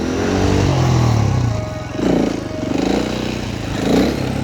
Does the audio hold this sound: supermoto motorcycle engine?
yes